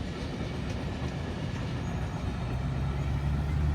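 An underpowered coal train climbs a grade with a steady, heavy low rumble and a grinding drone, carrying on without pause and with no voices.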